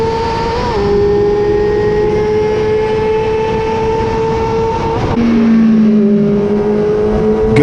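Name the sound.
Yamaha R6 motorcycle passing on race track straight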